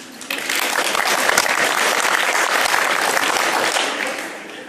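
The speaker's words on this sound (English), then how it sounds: "Give yourselves a round of applause." A large audience at a rural parliament plenary session in Scotland breaks into dense, loud applause that holds steady for several seconds before tapering off at the end.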